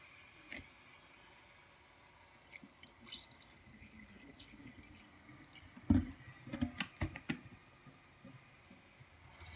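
Vinegar poured down a household sink drain gives a faint steady fizzing hiss with scattered drips and a brief cluster of splashy gurgles partway through, close and quiet.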